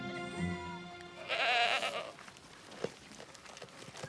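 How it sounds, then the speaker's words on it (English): Goats bleat nearby, a shorter call first and then one loud, wavering bleat, followed by quieter rustling and a small knock. "Angel and Marshall will be let off leash with the goats for the first time"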